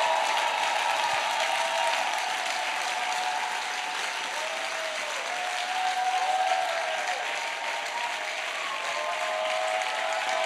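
A church congregation applauds continuously for about ten seconds, a steady, dense wash of clapping with faint whistles or cheers drifting through it.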